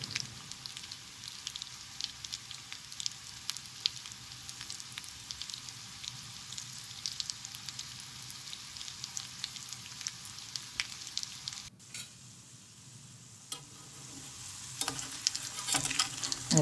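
Mackerel fish cutlets fry in a pan, a dense crackling sizzle that runs continuously, briefly drops quieter near the end and then picks back up, with no talking.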